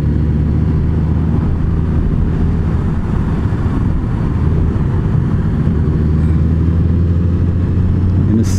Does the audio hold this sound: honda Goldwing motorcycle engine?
yes